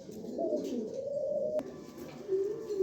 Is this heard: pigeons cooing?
yes